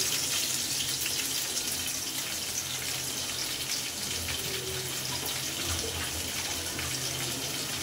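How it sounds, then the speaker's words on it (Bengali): Water is poured into a cooking pan over ginger-garlic paste and onions for a chicken curry with peas and small potatoes, making a steady, continuous rushing splash for about eight seconds with no talking. "আদা রসুন দিয়ে একটু পানি দিয়ে দিলাম।"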